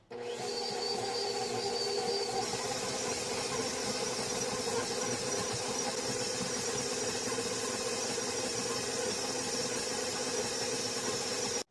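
A stand mixer runs on speed 2, mixing Christmas cookie dough with a steady, loud motor whine and high squeal that holds unbroken for the whole stretch, with no talking.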